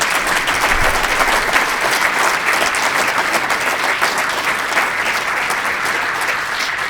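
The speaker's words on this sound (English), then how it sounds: "One more time, let's have a round of applause." Sustained, dense applause from an audience at an evening education-foundation talk event, steady and full for the whole stretch with no speech over it.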